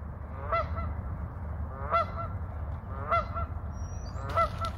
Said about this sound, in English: What are you squawking about?